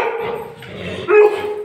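A puppy close by gives high, thin yips and whimpering barks, with one sharper bark near the end.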